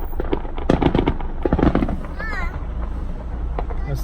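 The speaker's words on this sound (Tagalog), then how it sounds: "Fireworks!" Canada Day 2019 fireworks at The Forks in Winnipeg, Manitoba: a few sharp bursts and pops ring out over steady crowd noise, with people talking and cheering close by.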